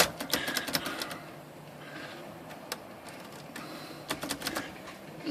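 A Hermes 3000 manual typewriter being tested for spacing, backspace and tab gives sharp mechanical clacks and snaps in small clusters, close and fairly quiet, with no talking.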